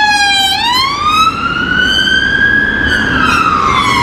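A loud police car siren wails nearby in Crewe, its pitch dipping and then sweeping slowly upward in a long, steady tone over traffic rumble.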